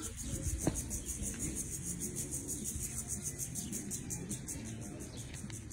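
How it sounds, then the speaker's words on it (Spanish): A steady, high, pulsing drone from a cicada carries across a weedy field of pigweed sprouting after rain, continuous and moderately loud, with a faint low rumble behind it. "Chicharrita, ¿dónde está la chicharra?"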